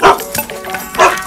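A dog gives two loud, close barks about a second apart, with a gap of quieter sound between them. Voices seem to mingle with the barking.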